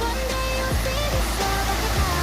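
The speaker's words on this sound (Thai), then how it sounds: "มาชมภาพบรรยากาศน้ำตกนะครับผม" Steady rushing roar of a jungle waterfall in Na Yung–Nam Som National Park, Udon Thani, Thailand, a broad continuous wash of noise with faint tonal bits over it, fairly close.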